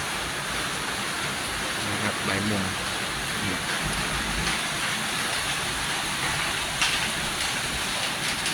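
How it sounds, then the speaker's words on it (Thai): Steady rain with no wind hisses evenly throughout with no gusts at an elephant village show ground, while someone speaks briefly over it. "ฝนตกแบบ แบบเงียบๆครับ แบบไม่มีลมพัดเลยครับผม นี่ตกนิ่งมากเลย"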